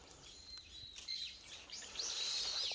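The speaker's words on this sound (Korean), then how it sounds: "새소리들이 너무 지금 이렇게 정겹고 좋습니다." Faint bird chirps and short calls in a quiet forest in freezing winter, thin high tweets repeating, growing a bit busier toward the end.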